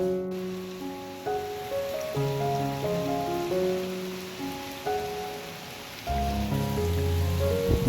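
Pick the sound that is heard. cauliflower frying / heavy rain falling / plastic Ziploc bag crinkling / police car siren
heavy rain falling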